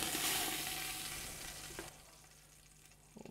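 Goat kid shoulder sears in a pot with a loud, broad hiss that fades gradually, ending with a few faint clinks near the end.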